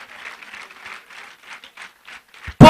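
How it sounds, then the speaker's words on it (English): At an IGCSE and A-level graduation ceremony, faint, distant clapping comes in slow, rhythmic bursts to honour education. A sudden loud thud cuts in at the very end. "On applaudit très fort pour l'éducation."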